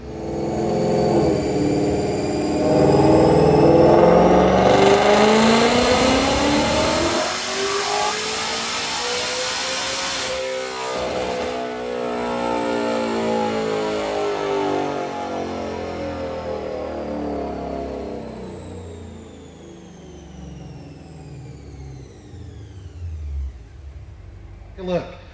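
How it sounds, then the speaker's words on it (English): A supercharged 2021 Ford Mustang with Roush supercharger, automatic transmission and methanol injection kit revs hard on a DynoJet, engine note climbing steadily through the gears then easing off, loud and close throughout. "Check out this dyno pull."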